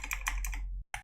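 Computer keyboard typing, a quick run of close keystrokes that stops briefly and then resumes with one more short burst, heard alone.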